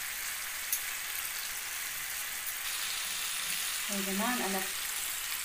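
Sea bass pieces frying in hot oil, crisping to golden brown, give a steady, fine sizzle throughout, while someone speaks briefly near the end over the crackle.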